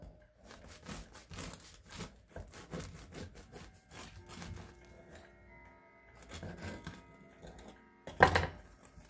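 A knife saws through a freshly baked, soft sourdough loaf with a crisp crust, giving repeated rasping strokes of varying loudness and a sharper crackle near the end, close by and without talk.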